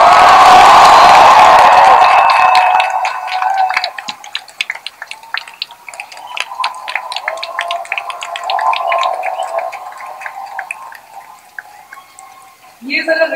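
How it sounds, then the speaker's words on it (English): A lecture hall audience bursts into loud cheering and clapping as a standing ovation, a dense roar for the first few seconds that thins into scattered claps and whoops, with a voice speaking at the end. "just start cheering and clapping"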